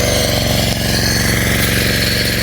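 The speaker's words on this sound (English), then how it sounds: "We are out in the night and working. The welding crew" Heavy construction machinery hammers at a building site at night where a welding crew works, a loud continuous rapid pounding rattle that stays close and unbroken throughout.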